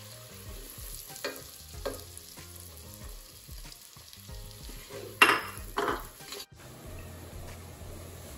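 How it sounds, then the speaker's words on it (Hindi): Onions, a medium size and a half, fry in a pan for butter chicken, a soft continuous sizzle with occasional stirring scrapes and a louder spoon clatter near the middle, heard close and fairly quiet. "प्याज फ्राई करने के लिए।"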